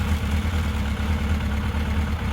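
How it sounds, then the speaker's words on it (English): Engine-start chime from Realme Wireless Pro earbuds switching into gaming mode, a steady low rumbling engine-idle effect with slight clatter, continuous and even throughout. "you get that familiar engine start sound"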